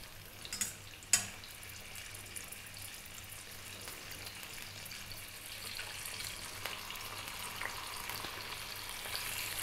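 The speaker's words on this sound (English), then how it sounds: "we're gonna fry this fish for about 3 or 4 minutes aside" Belt fish, also called cutlass fish, frying in hot oil in a pan over high heat, a steady soft sizzle with a couple of brief clatters near the start, close and fairly quiet, no talking.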